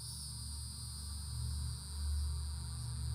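Cicadas drone in the video game When Summer is Over, a steady high-pitched buzzing that holds unbroken for the whole stretch over a low constant hum, with no voices.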